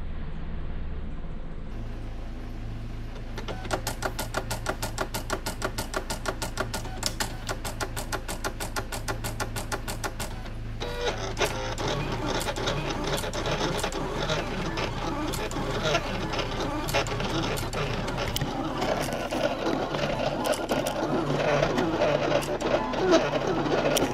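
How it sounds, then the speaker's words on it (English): A vinyl cutter slices a vinyl sheet for an RC car body, its stepper motors buzzing in rapid clicking bursts and whirring runs as the blade carriage moves, close and steady over a low background hum. "let me hit the send button, and let's get this vinyl cut"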